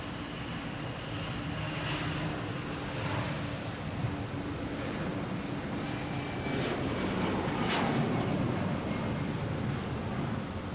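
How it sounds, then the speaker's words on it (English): A Delta Boeing 757 airliner bound for LAX passes at Boston Logan in the early morning, a steady, broad jet roar that holds for the whole stretch and swells slightly near the end, with no voices. "we got a Delta heading to LAX 757"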